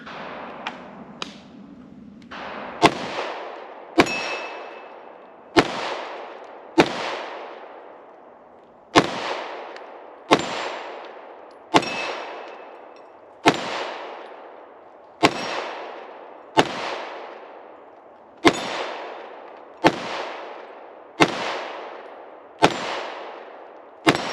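Shots from a Smith & Wesson M&P 2.0 compact 3.6-inch pistol fired at a steady, fast pace, roughly sixteen loud, sharp reports spaced evenly with brief echoing decays and no talking.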